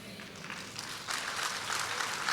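Clapping from a church congregation during a sermon, a soft patter that swells into fuller applause halfway through and carries on steadily.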